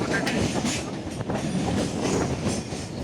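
A train rumbles past close by, a continuous loud roar of wheels on rails with faint rhythmic clacking throughout.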